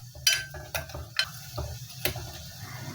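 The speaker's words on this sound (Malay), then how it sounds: "Dah mendidih, kacau." A simmering pot of yellow coconut curry with salted fish and pineapple bubbles softly while a utensil scrapes and clinks against the pan in a few irregular strokes, close and fairly quiet.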